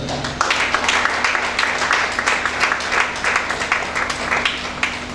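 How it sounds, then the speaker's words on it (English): Scattered audience applause at a civil society tax-compliance gathering, a fairly steady patter of clapping hands with uneven bursts, moderately loud and continuing without speech over it. "Please put your hands together."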